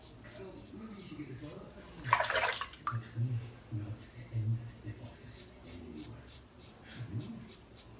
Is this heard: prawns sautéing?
no